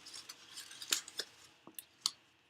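Scissors trim the edges of a paper Valentine's treat box in a quiet room, giving several short, crisp snips and rustles spread irregularly across a couple of seconds.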